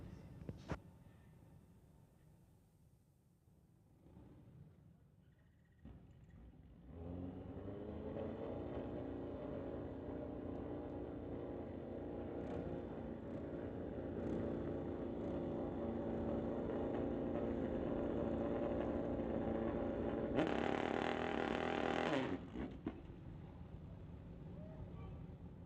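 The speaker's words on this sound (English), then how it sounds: "We've got Ralph in the Lordco lane on his Kawasaki ZX14." A Kawasaki ZX14 motorcycle in a street-legal drag race idles and then settles into a loud, steady engine drone with a tonal hum that builds toward a brief sharper surge near the end, heard over a quiet start.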